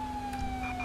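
Police car siren in Grand Theft Auto V, a loud steady wailing tone sustained throughout, close by and heard alone without talk.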